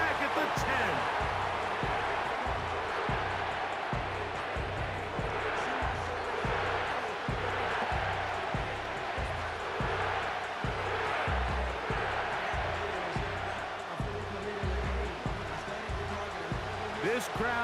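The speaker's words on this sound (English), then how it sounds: "This crowd doing everything they can before 3rd and goal." Stadium crowd at an NFL game between the Arizona Cardinals and New Orleans Saints, a steady loud roar filling the whole stretch with low thumping rumbles underneath.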